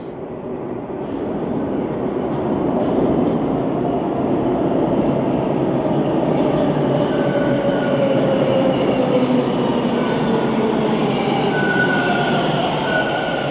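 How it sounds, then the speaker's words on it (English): A Toronto subway train rumbles into the station, its steady roar swelling over the first few seconds and holding loud, with faint rising squeals from the wheels and brakes as it arrives. "I'll end it right when this train pulls in."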